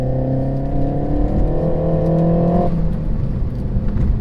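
A Renault Megane RS on a B road gives a steady engine drone from inside the cabin, rising in pitch, then dropping suddenly as the gear changes, with road rumble underneath.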